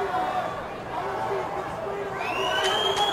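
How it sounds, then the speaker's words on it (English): Arena crowd at a UFC event in Mexico booing a fighter, a sustained dense roar of voices filling the space, with scattered shouts and a whistle rising near the end. "A lot of boos."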